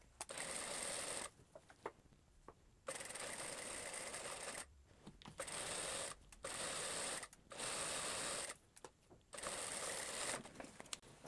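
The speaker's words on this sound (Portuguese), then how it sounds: "Então, venho aqui e vou costurar, começando com retrocesso e finalizando também com retrocesso." A sewing machine stitches the waistband seam of a Camélia skirt with backstitching, running in several loud bursts of rapid stitching separated by short pauses and a few brief stops.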